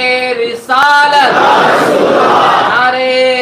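A large crowd roars back in unison in response to a Takbeer slogan at an Islamic gathering, a loud, massed shout that swells and holds between a single amplified voice leading the chant.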